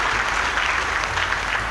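Dense, steady applause from an audience at a commerce minister's speech at a trade fair, a continuous crowd of clapping hands with no talk over it.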